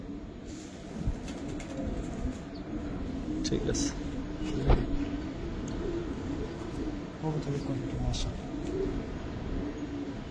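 Soft, intermittent cooing from Giribaz pigeons, black-necked and silver birds, sits under steady conversation between men, with low background noise throughout.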